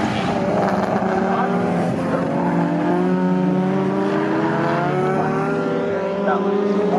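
A racing BMW GTR engine drones steadily during a saloon car race at Snetterton circuit, a continuous loud note with shifting pitch as it runs on, a commentator's voice sitting over it.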